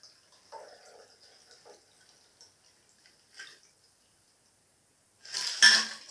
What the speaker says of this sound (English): And we need to strain and pour into a cocktail glass.